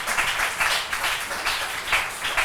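A church congregation applauds together during a worship service, with dense, steady clapping that swells and dips in waves, fairly close and filling the room.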